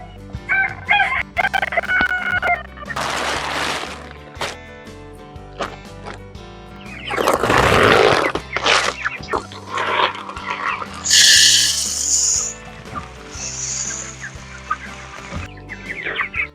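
Backyard garden chickens, including a meat bird, cluck and squawk while a rooster crows loudly several times, with bursts of calling spread across the stretch and a brief voice at one point.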